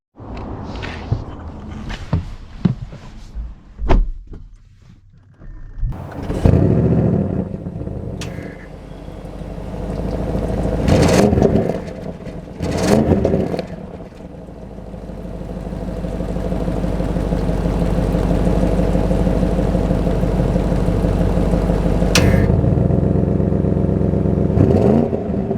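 A 2025 Audi RS6 Performance engine revs in sharp bursts, then settles into a loud, sustained drone as the car accelerates, with clatter and a few footstep-like knocks at the start.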